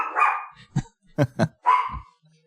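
Dogs barking in a few short, sharp bursts, close and fairly loud, with a whimpering yelp between them and no talk over them.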